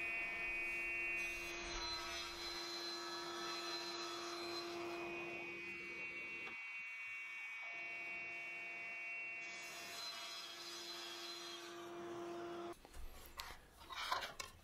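Table saw cutting 16mm MDF board into frame pieces for a cabinet, a loud sustained whine with a steady tonal hum, the load dipping briefly mid-cut before the blade spins down near the end.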